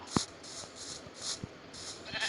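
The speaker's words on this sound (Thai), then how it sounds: "แกะทำไมเกิดเยอะจังช่วงเนี้ย" Sheep in the video game Minecraft bleat, with one clear nearby bleat near the start and softer ones after, over repeating hissy game sounds.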